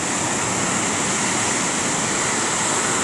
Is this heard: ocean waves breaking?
yes